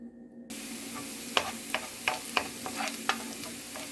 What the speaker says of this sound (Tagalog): So, magsusutay tayo ngayon yung onions.